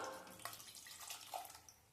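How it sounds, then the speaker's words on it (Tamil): Water poured into a pot of homemade sambar with cooked lentils, a quiet splashing trickle with a couple of brief gurgling drops, close and soft, with no talking. "இப்போ இந்த சாம்பாருக்கு தேவையான தண்ணியும் சேர்த்து விட்டுடலாம்"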